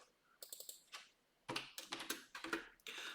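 Rapid bursts of key presses sound on a computer keyboard while a sheet in an Excel workbook is renamed, crisp clicking in short irregular clusters with brief pauses between them.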